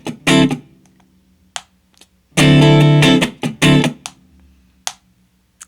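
Funk electric guitar plays only the first half of a sixteenth-note groove, with muted scratches between short, bright chord stabs, then leaves space on beats three and four; about three bursts, close and fairly loud, without talk.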